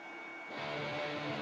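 A jet aircraft sits on the runway in the YSFlight flight simulator, its steady engine roar building noticeably louder halfway through, a broad continuous whine and rush with no voices.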